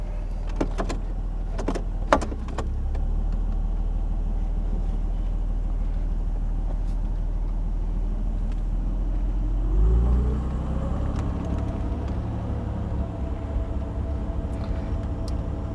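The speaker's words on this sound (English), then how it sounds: "Car starts beautifully." A restored 1966 Mercedes-Benz W112 300SE runs while driving, its steady low engine rumble continuous throughout, with a few sharp clicks early on and a brief louder surge around the middle.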